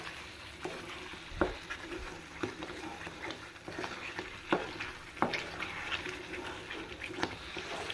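Tuticorin halwa being stirred and scraped in a heavy aluminium pan, heard as a continuous thick bubbling sizzle broken by sharp scraping knocks every second or so, close by.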